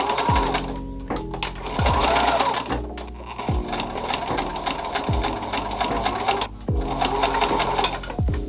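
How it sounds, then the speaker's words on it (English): A sewing machine back stitches at the start of a dart on a prom dress, running in steady close bursts of rapid mechanical stitching broken by brief pauses and reversals, with no talking. "We're going to back stitch at the beginning here."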